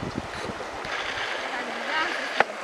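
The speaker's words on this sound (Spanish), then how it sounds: "¿Cómo está el río? Está fuerte." A strong-flowing river at La Vega, Zacualpa, El Quiché, heard as a continuous broad rush of water mixed with wind, steady and moderately loud, with one sharp knock near the end.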